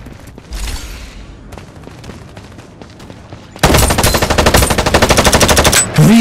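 Automatic weapon fire in the Farlight 84 video game rattles out as a loud, rapid sustained burst after quieter scattered shots and game effects, close and dense until it cuts off.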